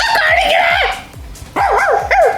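A dog barks and yelps repeatedly in sharp, close bursts, with a pause midway before a second loud run of barks.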